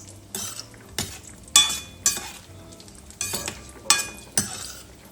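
Cashews frying in a pan for kaju masala, a soft constant sizzle broken by a series of sharp metallic scrapes and clinks as a spoon stirs them, about eight strokes in an uneven rhythm.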